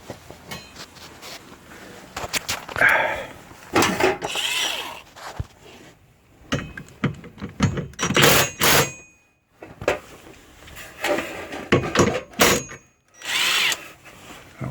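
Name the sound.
impact wrench tightening tow hitch bolts on Honda Accord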